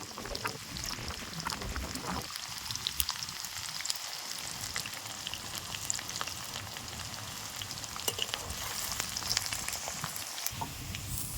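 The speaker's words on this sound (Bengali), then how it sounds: "তেলের উপরে পেঁয়াজ দিয়ে দেবো।" Chopped onions frying in hot oil with dried red chilli and bay leaf for a spicy-sour rooster curry, a steady broadband sizzle with scattered crackles and a few spatula scrapes, close and continuous, no talking.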